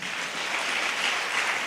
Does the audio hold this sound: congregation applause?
yes